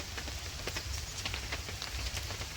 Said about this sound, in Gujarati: હાલ વરસાદ પડે છે